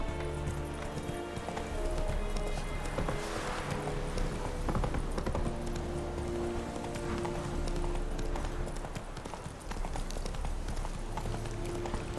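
A horse gallops in The Witcher 3: Wild Hunt, its hooves clip-clopping in a fast steady rhythm over a bed of game music and ambience, fairly faint, with a few brief voice sounds.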